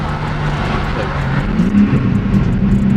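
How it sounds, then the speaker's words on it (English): A BMW G80 M3 with a manual gearbox rev-matches on a downshift, a close engine drone that rises in pitch with a quick blip, with a voice briefly heard. "the rev matches by itself"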